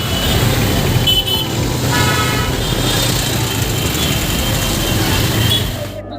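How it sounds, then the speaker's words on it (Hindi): Dense road traffic with a car horn tooting over a steady roar of engines, constant and fairly loud before cutting off at the end. "ट्रैफिक कितना ज़्यादा लगा है।"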